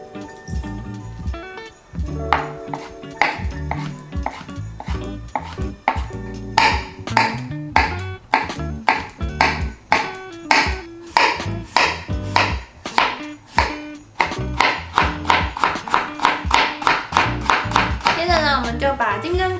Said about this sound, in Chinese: 我们就把干香菇、木耳跟红萝卜都切成丝状